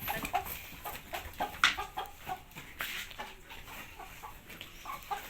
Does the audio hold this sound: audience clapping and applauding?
no